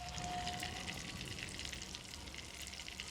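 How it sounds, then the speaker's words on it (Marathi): Oil and butter heat in a pan for a tadka for homemade pav bhaji, giving a steady, close, gentle sizzle with a faint brief tone at the start and no voices. "हे बघ तेल आणि बटर छान तापले."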